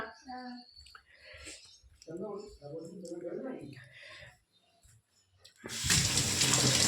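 A machete and a stick are washed under running water, a loud steady gush of water over the last second after a stretch of talking.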